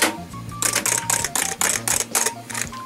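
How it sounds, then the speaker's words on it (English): Loud, clacky typing on an old Packard Bell keyboard of a 486 IBM tower, rapid repeated keystrokes in a steady rhythm, close up with a faint hum underneath. "That's the sound of typing bliss."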